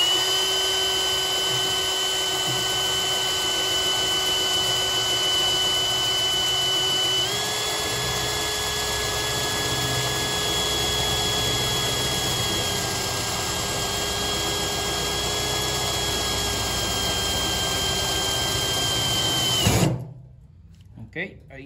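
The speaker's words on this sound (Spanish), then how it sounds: "Ok, ahí ya vamos con la broca sierra." Power drill fitted with a hole saw cuts through lubricated sheet metal, a steady loud whine holding pitch for about twenty seconds, then stopping abruptly.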